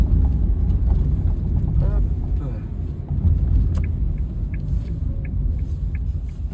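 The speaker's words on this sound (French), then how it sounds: "je vais me taire et puis on va écouter ensemble, je vais prendre un petit peu de vitesse" Nissan Pixo driving on a road in Clamart while picking up a little speed, its engine and road rumble a steady low drone throughout, with wind noise and faint intermittent background sounds.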